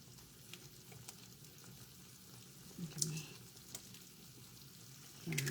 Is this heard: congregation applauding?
no